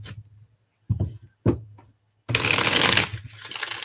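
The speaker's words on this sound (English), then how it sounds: "All right, one more shuffle." Playing cards being handled and shuffled: a few sharp taps and riffles, then a fast, loud riffle burst lasting under a second, followed by quieter card rustling.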